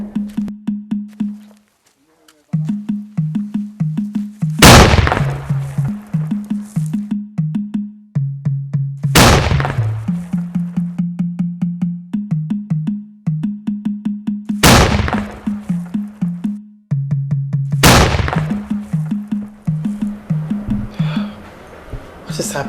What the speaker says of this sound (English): First it was the sound of the ancient Kalu, and now the cannon.